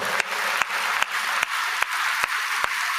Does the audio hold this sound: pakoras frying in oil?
no